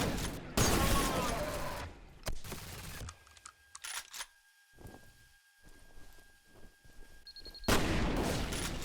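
Gunfire in the shooter F.E.A.R., loud bursts of shots and impact crashes at the start and end, with a quieter stretch of sparse clicks and distant pops between.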